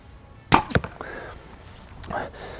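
A single arrow fired from an APA King Cobra compound bow outdoors: a sharp, loud release snap followed quickly by a second thump, then a short fading rattle.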